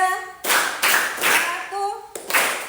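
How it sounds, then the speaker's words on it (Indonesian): A school class claps in a counted rhythm, with three bursts of sharp group clapping, loud and close, while a voice calls out the count between them. "Tepuk 1, 2, 3,"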